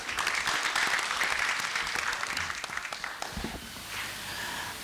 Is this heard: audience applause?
yes